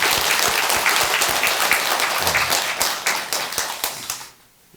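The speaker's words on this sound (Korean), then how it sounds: "우리 선원장 스님께 일단 또 감사의 박수를 한번 드리도록" An audience gives a warm round of hand clapping for the abbot at a Buddhist temple dharma talk, with crisp individual claps that thin out and fade to quiet at the end.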